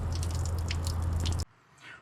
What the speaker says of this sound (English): allow the water to continue coming out through the low point drains